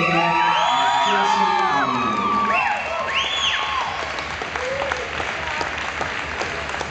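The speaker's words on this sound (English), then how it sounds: "a round of applause, please, for our champions this afternoon" A ballroom dance competition crowd applauds and cheers for the junior open champions, loud whoops and shouts riding over dense clapping that slowly eases.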